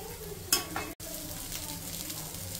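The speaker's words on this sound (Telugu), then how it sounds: "ఇప్పుడు రైస్ అయితే యాడ్ చేశాను చూడండి" Boiled rice tumbled into frying chicken in a street-style pan, stirred with a soft scraping sizzle; a brighter scrape near the start, then a steady hiss of frying underneath.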